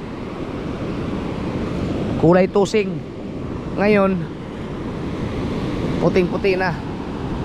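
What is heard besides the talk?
sea waves on the shore, with wind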